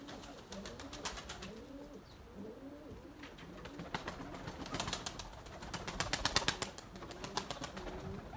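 White Gökbey pigeons and young birds coo and call, with soft repeated cooing and bursts of wing-flapping in flight, moderately close with steady outdoor background.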